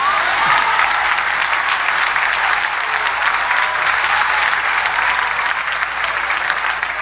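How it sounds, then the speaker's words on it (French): Steady, dense applause from a church congregation fills the space, a loud continuous wash of many hands clapping together without a break, with no clear speech over it. "Bon Dieu, applaudissement pour ça"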